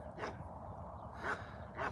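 Farm dogs barking near a newborn foal: three short barks spaced about a second apart, faint and somewhat distant over a quiet background.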